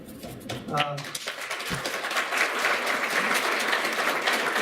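Applause from a crowd at a city candidate debate in Mission, Kansas builds and continues steadily, with a brief voice near the start before the clapping fills the room.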